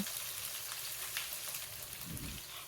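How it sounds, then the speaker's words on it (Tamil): Garlic and six green chilies sauté in hot oil for a curry gravy, giving a steady, close, dense sizzle and crackle that runs throughout with no pauses. "ஒரு 6 பச்சை மிளகாய் வந்து சேர்த்துட்டு அதுவும் ஒரு 30 செகண்ட்க்கு வதக்கி கொடுங்க"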